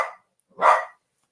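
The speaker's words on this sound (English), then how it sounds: "the dogs are going to bark" Dogs barking at home: a short bark at the start, then after a pause a louder, fuller single bark, near and alone against silence.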